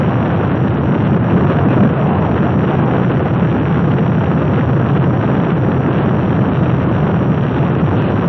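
Apollo 5 rocket engine ignition at launch: a loud, continuous broadband roar with deep rumble, steady and unbroken throughout, no voices over it.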